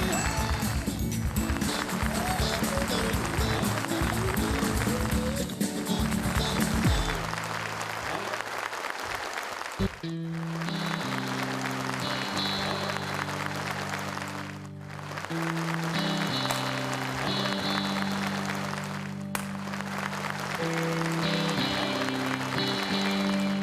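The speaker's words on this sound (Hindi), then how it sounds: "जोरदार तालियों से स्वागत करिए श्री बीपी सिंह" Audience applause welcoming a speaker onto a stage at a company event, sustained clapping from a large crowd mixed with loud stage music throughout.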